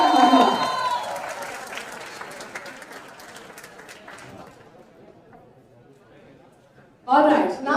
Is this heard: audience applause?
yes